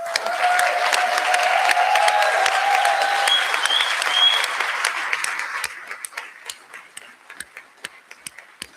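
Warm, dense applause for graduates at a hooding ceremony, which thins out after about five seconds into a few scattered individual claps.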